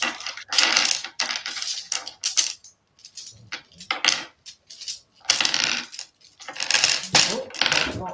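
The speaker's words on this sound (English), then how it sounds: "I roll 2 percentage dice for the mains." Two percentage dice clatter and tumble across a hard surface during a tabletop game, a run of sharp, close clicking rattles in several bursts.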